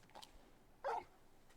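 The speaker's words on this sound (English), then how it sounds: "You're just a big puppy," Torgal, the big canine companion in Final Fantasy 16, gives one short, fairly loud bark-whimper after a quiet stretch, standing alone without talk.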